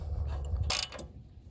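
A bolt being fitted back into the bottom of the carburetor bowl on a Predator 459cc engine: a low mechanical rumble, then one short, bright metallic ratcheting burst, close and fairly loud, fading into quiet handling noise.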